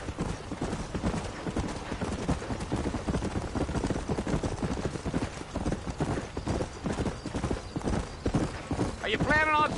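Horse hooves clip-clopping in a steady galloping rhythm in the video game Red Dead Redemption, continuous and prominent, with a neigh near the end and voices talking over it.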